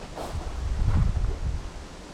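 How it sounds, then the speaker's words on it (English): Wind blowing outdoors near a World War II bunker in Europe, a low rumbling gust buffeting the microphone, swelling in the middle and easing off, with faint rustling. "The bad thing about being outside is because it's a little bit windy today."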